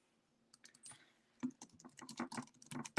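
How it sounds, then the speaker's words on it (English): Computer keyboard typing while filling in a baseball box score: irregular bursts of close key clicks, sparse at first and then denser and steadier, with no talk. "So doing a little bit of typing here."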